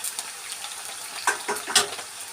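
Potatoes frying in oil crackle with a steady sizzle, broken by a few louder pops and splatters as they shift in the pan, with no talking.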